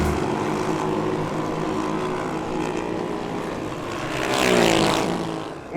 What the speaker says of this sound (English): It's a pure sound of that engine that just breaks through the air as if nothing can stop it.